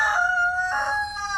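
Roosters crowing close by on a homestead, two long strident calls with a third starting, loud and clear over a low background hum.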